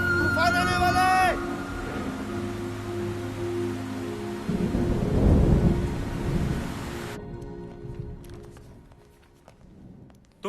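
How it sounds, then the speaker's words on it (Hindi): A thunderstorm rumbles with heavy thunder and steady rain, a deep roll swelling in the middle before fading, with a brief voice-like tone at the start. "तूफान आने वाला है।"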